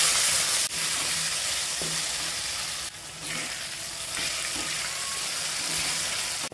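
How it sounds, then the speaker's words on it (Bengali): Potato pieces frying in hot oil in a pan, a dense continuous sizzle heard up close, broken by a few clicks and scrapes as they are turned. No one speaks. "আলুটাও সুন্দর করে ভেজে নিলাম।"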